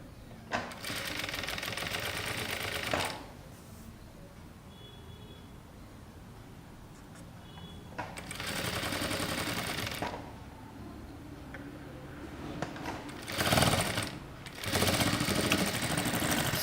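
Sewing machine stitching the seams of a princess cut kurta, in three loud steady runs of whirring, separated by quieter pauses with faint handling noise.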